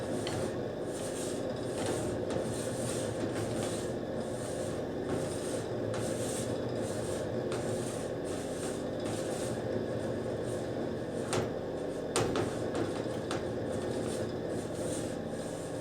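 A spatula folds macaron batter in a bowl, making soft repeated scraping and smearing strokes close by at a fairly low level, with occasional light knocks against the bowl.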